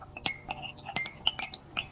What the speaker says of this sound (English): I scoop sweet jam from the glass jar.